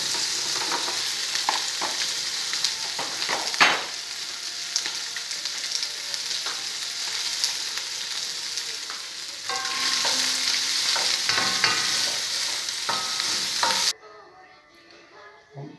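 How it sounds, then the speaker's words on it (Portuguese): Bacon frying in a pan for an X-bacon sandwich, a steady close sizzle and crackle with occasional stirring scrapes throughout, the hiss dropping away abruptly near the end. "Então primeiramente vamos fritar o bacon."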